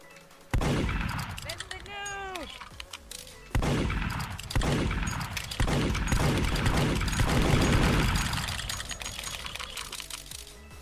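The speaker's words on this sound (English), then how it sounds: "I'm gonna troll them with a gun. Like, I'm gonna go over here and just shoot." Soundboard gunshot effects played in the Roblox game Murder Mystery 2: a series of sharp, loud bursts of rapid gunfire recurring through the stretch, with keyboard clicks and brief talking mixed in.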